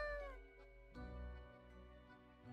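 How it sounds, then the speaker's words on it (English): A cat gives a drawn-out, falling meow, and after a short pause a second, lower meow follows. Both are close and fairly clear, with no talking around them. "Fuck your cat."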